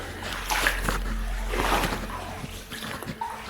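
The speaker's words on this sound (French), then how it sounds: "il y a au moins 15 cm d'eau, d'où la nécessité d'y aller avec des bottes" Rubber boots wade and splash through water about 15 cm deep in the flooded airlock of an old railway tunnel, with sloshing, steady splashes that echo faintly under a low rumble.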